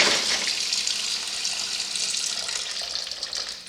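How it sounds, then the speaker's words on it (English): Kitchen tap running into a sink while fresh mussels are rinsed of grit, a continuous hissing splash of water that stays fairly steady and close, slowly easing off toward the end with no talk. "just let the water run, and that's enough"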